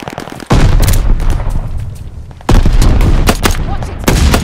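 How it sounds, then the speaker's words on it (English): A heavy blast rips through a Call of Duty Vanguard firefight as a grenade goes off, with a second loud burst later amid steady background gunfire and battle noise. "Tossing grenade."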